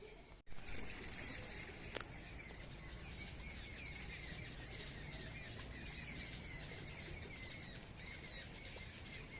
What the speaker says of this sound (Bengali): ওপারের গাছগুলোতে পাখিগুলো মনে হচ্ছে ঝগড়া করছে তখন থেকে চেঁচিয়ে যাচ্ছে